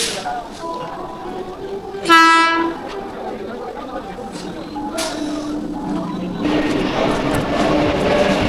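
A train at Madhyamgram railway station platform sounds a loud harmonic horn blast, with rumbling rail and platform noise that swells as the train draws nearer, and scattered voices nearby.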